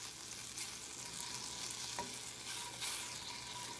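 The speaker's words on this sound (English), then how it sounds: "let our butter and Jack Daniels melt together" Butter and Jack Daniels melting together in a pan over low heat make a soft, even sizzle with faint bubbling, fairly quiet and uninterrupted.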